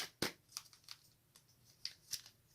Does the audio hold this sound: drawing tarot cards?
yes